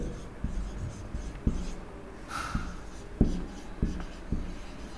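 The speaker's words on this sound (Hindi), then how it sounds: "यहां पे हम लिखते हैं ट्रोपोस्फेयर।" Chalk or marker scratching across a board as a word is written, a close series of short scraping strokes and taps in an irregular rhythm, with no speech.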